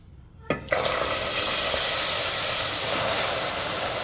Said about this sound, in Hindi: अभी इसमें हम दूध डालेंगे।